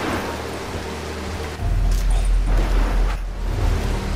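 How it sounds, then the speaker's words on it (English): Steady rain from the video game Mark of the Ninja hisses throughout, swelling louder partway through with a deep low rumble underneath, continuous and close. "I don't want to have to compete with rain noise"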